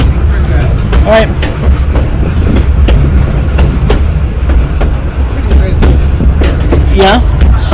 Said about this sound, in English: the train's on your side right now.